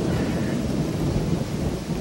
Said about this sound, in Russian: тут сверкнула молния, и где-то не очень далеко загремел гром